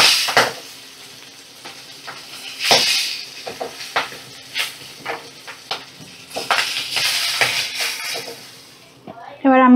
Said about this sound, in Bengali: মাছগুলো ফাটবে, একটু সাবধানেই ভাজতে হবে। দেখো খুব তেল ঠিকরা এই মাছগুলো।